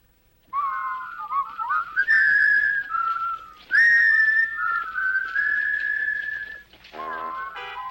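A person whistles a bright, lilting melody in clear, sustained phrases with a few quick trills, close and loud, with no talking.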